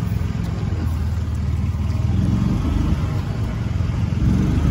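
A Club Car utility cart runs in gear and drives along, its mid-pitched engine droning steadily and close, with no pauses.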